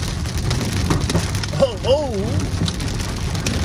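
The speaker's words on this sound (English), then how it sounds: "And it is hailing like crazy out here." Hail pelting a car windshield during a thunderstorm in the Sierra Nevada, California, a dense steady patter of hard impacts heard from inside the vehicle while a voice exclaims briefly over it.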